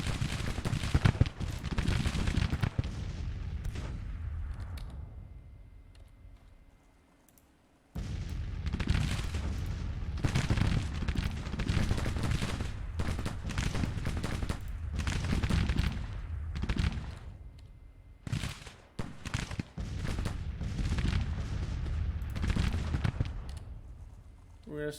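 Cannon and rifle fire in Grand Tactician: The Civil War during an 1863 Virginia battle, dense continuous booms and volleys rolling over each other with one brief lull, mostly at a distance.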